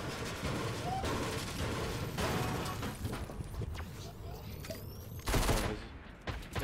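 Steady rattling gunfire and fusillade from a Fortnite battle royale match in a competitive qualifier, continuous and fairly distant, with a louder burst near the end and some voice chatter mixed in.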